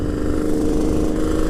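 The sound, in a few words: Kawasaki H2 750 motorcycle engine while riding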